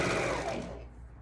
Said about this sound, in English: I'm going to use a little more than a 1/4 inch seam on my sewing machine